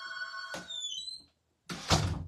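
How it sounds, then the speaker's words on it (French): A door swings and closes indoors with a brief creak and scrape, a short silence, then a louder rushing thump as it shuts nearby. "je vais fermer ma porte"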